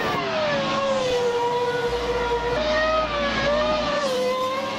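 Ferrari F2004 Formula 1 car in Assetto Corsa at Monza, its high-pitched V10 screaming steadily and loud, pitch dipping briefly under braking and climbing again through the gears.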